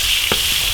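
Ginger, scallion, onion and shrimp stir-frying in a hot iron wok: a steady bright sizzle with one brief stirring scrape partway through, close and alone.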